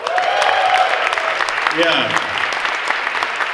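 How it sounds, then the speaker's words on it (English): An audience applauds dancers at a holiday award show, dense steady clapping throughout with crowd noise, while a speaker briefly talks over it. "How about a hand for those dancers"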